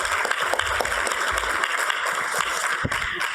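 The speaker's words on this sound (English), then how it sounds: "Another round of applause, please" Applause from an audience at a plenary session honouring an outgoing board chair, a dense steady patter of many hands filling the whole stretch with no pauses.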